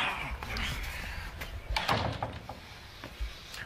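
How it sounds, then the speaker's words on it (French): Loud bangs and thumps on a door, several irregular knocks and a slam-like hit, heard near with people talking around them. "Mais oh, défoncez pas la porte"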